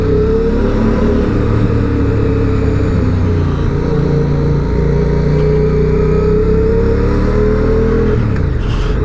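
A 2023 QJ Motors SRV 550 motorcycle engine runs loud and close through its stock original exhaust, holding a steady throb with slowly rising revs, echoing off nearby walls.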